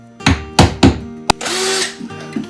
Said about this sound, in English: I'm just going to mark on the board so that I can drill a small hole.